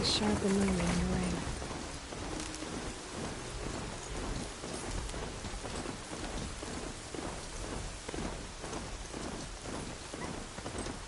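Rain and thunder in the video game Horizon Zero Dawn Remastered: dense, steady rainfall with rolling low thunder, loud and continuous, with a voice speaking over it.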